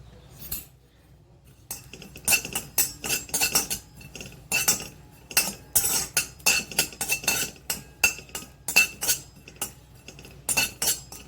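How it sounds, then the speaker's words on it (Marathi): A spoon scrapes and clinks in a pan as carom seeds (ajwain) are dry roasted, producing repeated close metallic taps and stirring sounds in uneven bursts. "हे ओवा थोडासा भाजून घेऊया"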